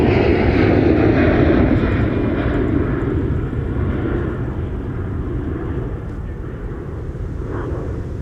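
A Delta Airbus A321-200 departs Minneapolis–St. Paul airport, its jet engines roaring steadily and loudly, the broadband rumble easing slightly as it climbs away.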